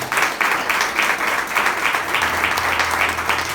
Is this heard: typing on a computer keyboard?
no